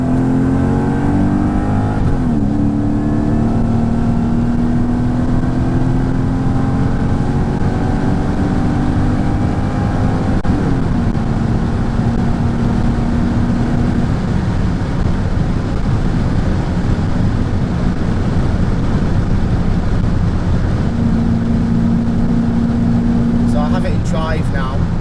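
A Mercedes-Benz E55 AMG W210 with a Kleemann supercharger drones loudly and continuously, its pitch climbing and dropping through several revs with a steady supercharger whine layered over the rumble.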